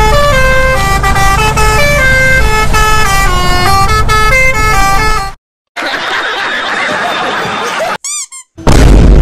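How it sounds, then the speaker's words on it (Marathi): A truck horn blares loudly in city traffic with a long, melodic multi-tone honking pattern, then breaks off into traffic noise with short chirping sounds before another loud blast. "गाईज या ट्रकचा हॉर्न बघा आता कसा वाजतो तो डेंजर वाजतो"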